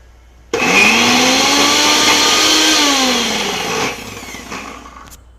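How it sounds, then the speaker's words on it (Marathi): Blender whirring loudly as it grinds spinach with garlic, a steady high-speed roar for about three seconds before winding down and stopping, with a short clatter afterward. "बघा आता हे पालक मी वाटून घेते"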